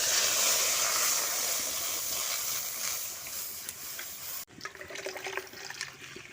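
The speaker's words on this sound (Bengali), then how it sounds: "এটা কড়ার মধ্যে দুধটা ঢেলে দিচ্ছি" Milk is poured into a kadai, giving a steady, hissing liquid rush for several seconds before it stops abruptly, followed by faint clinks and handling sounds.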